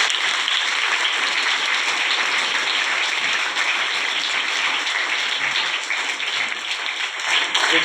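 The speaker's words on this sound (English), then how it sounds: "Give him a big round of applause for" A school audience at a student function gives a big round of applause, dense, loud and sustained clapping that carries steadily from start to finish.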